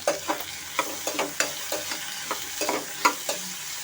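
Vegetables (tomato, beans and carrot) being stirred in a pan for broken wheat khichdi: a steady rhythm of repeated scraping strokes, close and clear over a soft sizzle.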